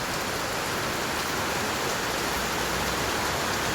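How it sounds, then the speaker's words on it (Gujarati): Unseasonal rain pours in Mumbai, a dense, unbroken hiss of rainfall at a steady loud level with no voices. "એવો આ વરસાદ વરસી રહ્યો છે"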